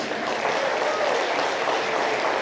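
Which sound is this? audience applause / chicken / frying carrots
audience applause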